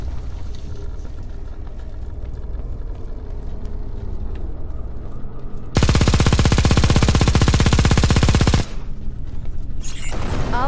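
Sustained automatic gunfire in the video game Eximius as enemies assault a base, a dense loud burst of rapid machine-gun rattle over a steady battle rumble, cutting off abruptly before another burst starts.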